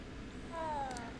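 A cat in a Hogwarts Legacy video game being petted gives a single short, close meow, rising then falling, over a low background hum.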